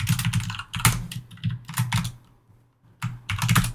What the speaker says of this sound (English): And if I type in Bill, I will get B-I-L-L in all caps.